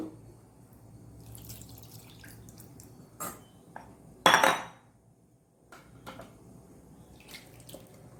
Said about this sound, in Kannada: ಸ್ವಲ್ಪ ಇನ್ನು ನೀರನ್ನು ಹಾಕೊಳ್ಳೋಣ.